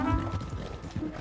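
Horse hooves beat in a fast running rhythm in the video game Red Dead Redemption 2, with a brief snort or whinny-like sound over the galloping.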